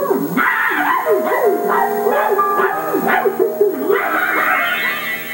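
A young dog barks and yips repeatedly in quick bursts, close and loud, with whimpering tones between the yelps and no talk over it.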